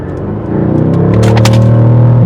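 A 2020 Mercedes-AMG GT R engine accelerating, its loud rumbling drone building in pitch and volume over about two seconds.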